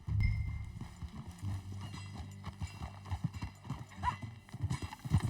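Horse hooves clip-clopping in a steady rhythm during a ride in the Red Dead Redemption 2 video game, with occasional whinnies and a low music bed beneath.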